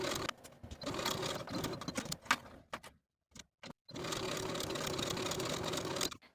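A sewing machine stitches a 5/8 inch seam allowance along the side seam of a silk dress, with backstitching, running in two steady bursts separated by a short pause and a few brief clicks.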